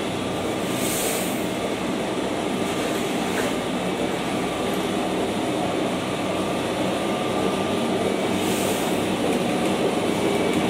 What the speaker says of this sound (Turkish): dolduktan sonra helezon yardımıyla şöyle yukarıdaki depoya doluyor önce. Ondan sonra preslere iniyor.